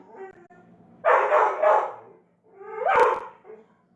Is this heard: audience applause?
no